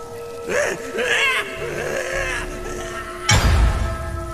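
Wavering, pitched sobs and wails of someone crying, used as a drama sound effect. The cries rise and fall in short bursts, and a low, rumbling thud comes near the end.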